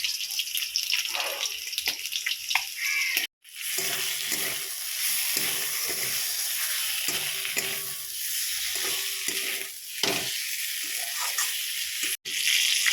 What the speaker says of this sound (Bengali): এই যে এই মাছগুলো ভাজতে দিয়েছি